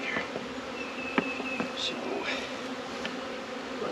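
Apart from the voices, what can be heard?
honeybees buzzing around hive in vineyard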